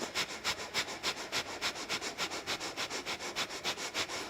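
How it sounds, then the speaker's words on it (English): Rapid, forceful bhastrika yoga breathing, a steady train of about twenty sharp, even inhale-exhale pumps close to the mic in a quiet room, each burst breathy and hissing. "So a Bhastrika breath is a forceful inhale and exhale."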